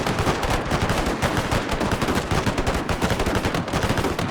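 Dense rifle fire from a Total War battle set in the Anglo-Zulu War: loud, continuous crackling volleys with many overlapping shots, no pauses, and no voices over it.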